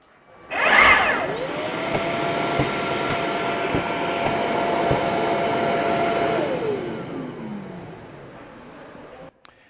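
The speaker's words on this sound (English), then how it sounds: "the dust extractor automatically kicks in and then shuts off 3 seconds after you've let go" A dust extractor whirs up after a brief power tool burst, runs with a steady hum for several seconds, then winds down and shuts off automatically.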